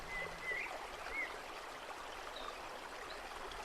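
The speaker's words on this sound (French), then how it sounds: "vous pouvez observer l'eau qui découline de toutes ces cascades" A river divided into several small cascades sends water trickling and splashing down in a cove. The flow is even and continuous, with occasional faint bird calls over it.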